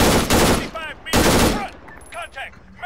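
Two heavy, meaty bursts of rifle fire in the military shooter Arma 3, each lasting about half a second, loud and close, with a voice between and after them.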